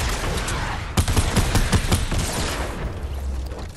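Video-game gunfire erupts in a dense, rapid volley of loud close shots through the middle, preceded and followed by a rough roar of combat noise that thins out at the end.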